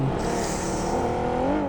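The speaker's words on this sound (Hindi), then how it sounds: "भाई 2 कूप जब एक साथ चलती है ना, तो वो इंजन की आवाज़ भाई" Two coupe engines running together, a steady, loud, close drone with rising harmonic whine as they rev, no voices over it.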